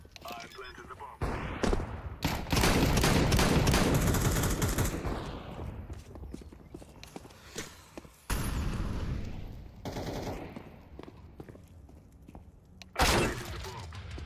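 A planted bomb detonates in Counter-Strike 2, a loud sustained explosive roar with crackling debris that fades and then bursts again, mixed with game sounds and a voice.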